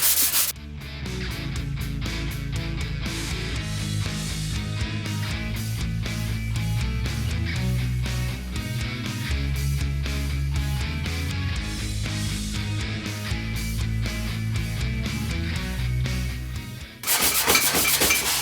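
Primer being sanded on a car grille with 320 grit sandpaper, heard as a long run of quick, repeated rubbing strokes at a steady rhythm, close and fairly loud, with a tonal background underneath.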